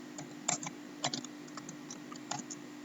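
Typing on a computer keyboard, light irregular key clicks in small bursts over a steady electrical hum, close and without talk.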